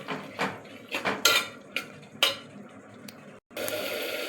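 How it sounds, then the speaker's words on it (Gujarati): A spoon scrapes and clinks against a spiced pot as green pigeon peas are stirred in for a Gujarati lili tuver shaak. The metallic clatter comes in short, close bursts and ends with a steadier sizzle-like hiss, with no talking. "એને પણ આપણે એકવાર હલાવી લઈશું."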